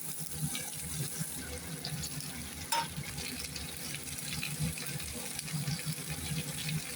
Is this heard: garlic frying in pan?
yes